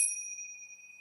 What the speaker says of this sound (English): They're called tingsha bells.